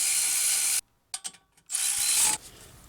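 A ratchet wrench snugging caliper bracket bolts on a 2013 Hyundai Accent during a front brake job, with bursts of rapid fast clicking broken by a short pause and a few separate clicks, close and alone.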